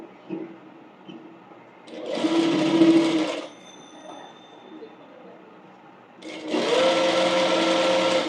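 An electric sewing machine stitches through two layers of cloth for a bonnet in two bursts of fast whirring, each about a second and a half long, separated by quieter handling, close and clear.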